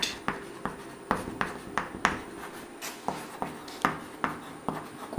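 Chalk or marker strokes on a lecture board during a differentiation class, a steady series of short scratchy taps and squeaks roughly every half second, close and clear with no talk.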